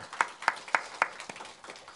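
Church congregation clapping in encouragement for the Zion choir, a handful of distinct, evenly spaced claps in a slow rhythm, fairly close and tapering off.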